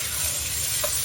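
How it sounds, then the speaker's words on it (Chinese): Celery stems being stir-fried in a wok, giving a brief, steady sizzle with soft stirring scrapes, close and alone. "芹菜杆先炒一下。"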